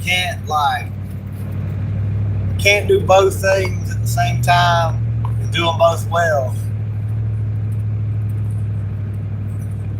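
Steady low engine hum and road rumble from inside a moving car persist throughout, with the driver talking over it.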